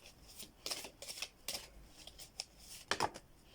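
Tarot cards are shuffled and drawn in a series of crisp, brushing riffles and flicks, close and fairly quiet, coming in irregular bursts with short pauses between them.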